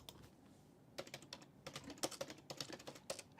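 Keys clacking on a wireless computer keyboard that rests on a metal plate, a quick irregular run of close, crisp taps with no talking.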